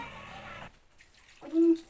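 Half a glass of water is poured into mutton with salt, turmeric, ginger-garlic paste, onion and curry leaves in a pressure cooker, making a short close splashing pour that stops abruptly, followed by a brief voice.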